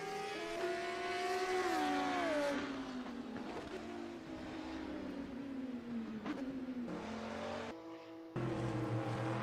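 GT3 race cars lapping Spa-Francorchamps in a racing video game, engines droning steadily with rising and falling pitch as cars shift and pass, a continuous loud roar with a brief dip near the end.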